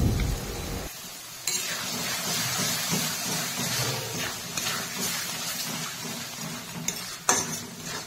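Spices with salt and turmeric fry in a pan with a little water for a village-style crab curry, giving a steady close sizzle under the scrape and clink of a stirring spoon against the pot.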